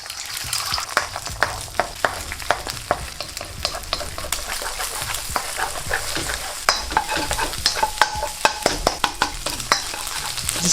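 Eggs frying in oil for egg fried rice give off a loud, continuous crackling sizzle, with rapid spatula scrapes and taps against the pan throughout and no talking.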